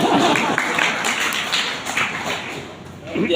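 A church congregation keeps up hearty applause, a close, dense rattle of clapping hands that swells again near the end while a voice talks over it.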